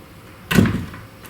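A door opens in a video game, heard as a single close whooshing, creaking thud that rises sharply and fades within about half a second, with no talk over it.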